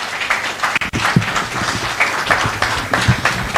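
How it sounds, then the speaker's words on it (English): An audience at a national waste management strategy launch claps steadily and fairly loudly for a few seconds, with a warm, dense patter of many hands. "Another big round of applause for Q Malawezi"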